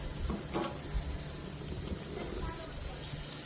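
Chicken sizzles on a grill over medium heat, a soft steady crackling hiss with small pops, fairly quiet, with a voice talking faintly over it.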